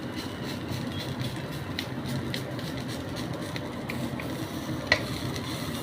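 A carrot mixture for gajar ka laddu is stirred in a pan, a soft continuous scraping with light sizzling throughout and occasional faint clinks of the spoon against the pan.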